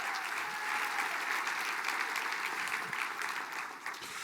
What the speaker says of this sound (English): can we give Kelly a round of applause